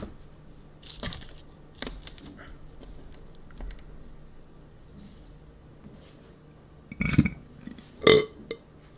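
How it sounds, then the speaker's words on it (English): Quiet room with faint clicks and rustles, then a short burp near the end, brief and fairly close. "Y'all heard a burp before?"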